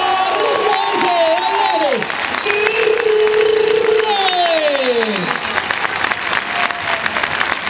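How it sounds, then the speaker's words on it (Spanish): A large crowd at a bullfight show claps loudly and continuously, a thick wall of applause with shouting voices and cheers rising above it throughout. "las palmas tienen que ser más fuertes"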